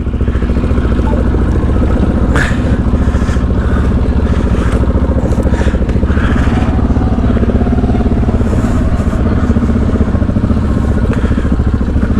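A motorcycle on a Cape York adventure ride to Cape Melville pulls away, its engine chugging loud and close in a steady rhythmic throb, with some clatter and scraping over rough ground.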